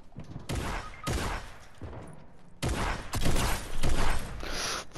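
Drum gun in Fortnite firing in rapid sustained bursts, loud and close, with short gaps between volleys and a continuous rattle of shots toward the end.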